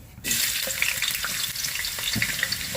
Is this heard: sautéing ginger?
yes